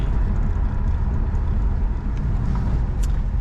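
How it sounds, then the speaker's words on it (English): A BMW with an N54 engine and DCT gearbox accelerates uphill under load, giving a steady, loud broadband engine and road roar that holds level throughout. "we'll accelerate up this hill and we'll see what she does under a little bit of load."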